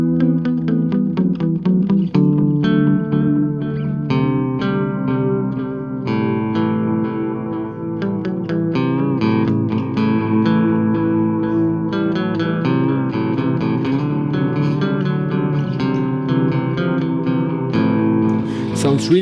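Electric guitar played through a delay pedal on a noise step preset, a continuous run of picked notes and chords with repeating echoes stacking into a dense, sustained wash, loud and close throughout.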